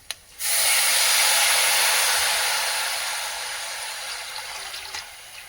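Amaranth greens (dantina soppu) for a palya hit a hot pan with a sudden loud, steady sizzle that slowly eases off over a few seconds, with a faint clatter near the end and no talking.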